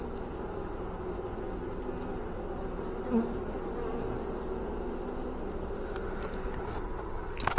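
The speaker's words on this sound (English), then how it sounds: "The bees are checking her out already." A dense, steady hum of many honey bees buzzing close up around a hive as a mated queen is introduced, continuous and even throughout, with a few faint knocks near the end.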